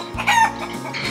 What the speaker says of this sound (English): It's another chicken.